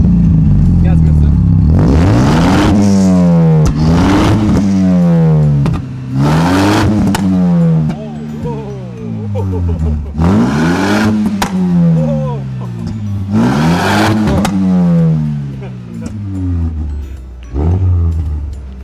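A tuned, sport-modified Chevrolet Lacetti engine is revved hard about six times, each loud, close roar rising and falling back to idle.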